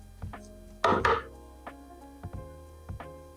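A knife works carefully under a kabocha squash on a cutting board, a few soft, close taps and one louder crunching cut, with sparse thuds afterward in a quiet kitchen.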